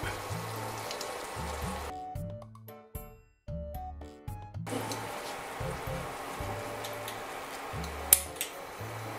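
Grand Marnier sauce for crêpes Suzette bubbles and sizzles in a pan, a close, continuous frying crackle over a low rhythmic hum that drops out briefly partway through.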